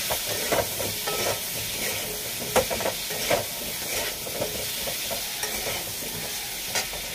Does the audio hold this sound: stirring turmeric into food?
yes